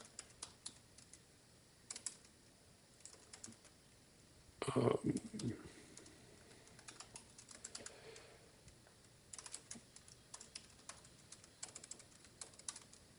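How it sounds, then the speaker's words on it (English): Fingers typing on a computer keyboard that isn't the usual one, light scattered keystrokes with a louder burst of clatter partway through, heard close alongside a speaking voice. "I don't know if I can type and talk at the same time."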